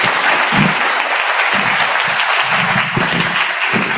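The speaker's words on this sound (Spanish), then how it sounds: "Un aplauso a los panelistas" A seminar audience applauds the panelists at the close of a panel discussion on higher education, a steady, full burst of clapping that holds for the whole stretch.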